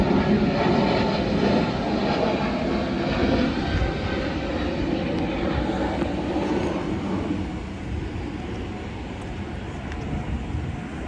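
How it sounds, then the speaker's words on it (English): A plane flies overhead at a warbird park in Myrtle Beach, South Carolina: a loud, steady broadband engine roar fills the whole stretch, easing slightly toward the end as it passes, with no talk. "Talk about the planes going overhead, and there goes one."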